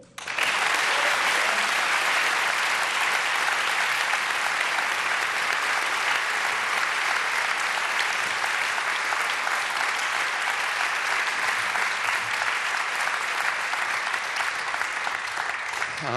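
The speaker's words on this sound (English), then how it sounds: "when you were applauding a while ago" A church-school audience claps steadily and loudly for the chancellor, a dense wall of applause that continues throughout with no talking over it.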